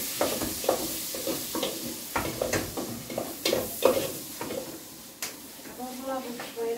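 Onion frying in a pan for a Brazilian vaca atolada stew, with crackling sizzle and repeated stirring scrapes and clinks throughout, close by, while people talk over it.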